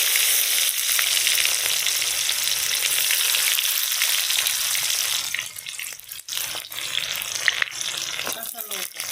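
Chopped onion and cumin sizzle in hot oil for a country chicken curry, a loud steady hiss that breaks into sputtering crackles and stirring scrapes midway, with a voice speaking briefly.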